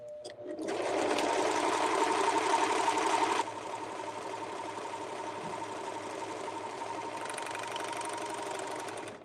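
A serger sewing machine runs steadily, stitching a decorative thread edge with a dense, continuous mechanical whir that is loud at first, then drops to a slightly softer, even hum for the rest, heard close and alone.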